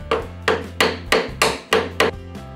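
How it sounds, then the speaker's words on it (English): Sharp chisel cleaning up the corners of a wooden frame, struck in a steady rhythm of about seven crisp, close knocks with a faint scraping between blows. "The corners are cleaned up with a sharp chisel."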